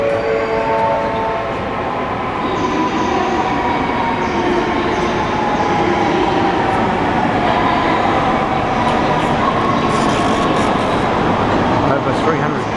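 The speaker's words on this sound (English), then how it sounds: "Here comes the Shinkansen." A Shinkansen bullet train arriving at a station platform in Japan, a loud continuous rushing rumble of wheels and car bodies running the full length of the clip, with a voice talking over it.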